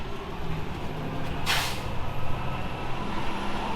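A single short hiss of a spray bottle of adhesive remover near the middle, over a steady low rumble of background noise.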